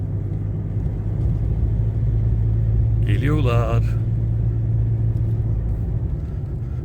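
A car engine idles with a low, steady rumble close by, and a person speaks briefly over it partway through.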